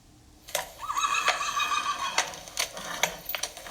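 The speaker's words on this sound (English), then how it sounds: "It's a high quality horse sound effect you got there." A horse neigh sound effect played during a podcast: a clear, shrill whinny rising and wavering for over a second, followed by sharp clip-clop-like taps, fairly loud and without talk.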